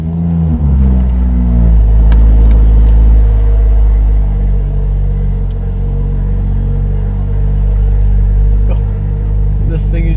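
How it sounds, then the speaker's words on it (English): De-catted BMW M140i engine cold start with a loud exhaust, a deep steady booming rumble that swells slightly, close by, with no speech over it. "This thing is just crazy loud. The cold start every time."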